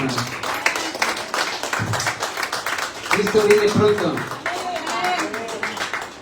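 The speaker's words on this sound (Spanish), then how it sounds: "Un aplauso al Señor" Church congregation clapping during a Spanish-language worship service, scattered rhythmic claps mixed with voices and singing, with someone speaking over part of it.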